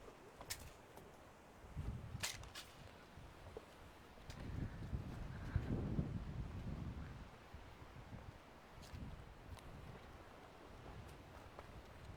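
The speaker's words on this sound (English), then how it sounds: "the wind's kind of died down a little bit, so hopefully you'll be able to hear us a bit better" Outdoors at a UTV course, wind buffets the microphone with steady low rumble and gusts that swell midway, with scattered faint clicks and rustles and no talking.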